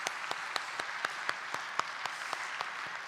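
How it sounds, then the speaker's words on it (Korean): A church congregation at a Sunday worship service applauds the youth ministry teachers, giving steady, fairly distant clapping with scattered sharper claps for about three seconds and no voices over it. "우리 청소년부 선생님들 위해서 함께 박수 드리도록 하겠습니다"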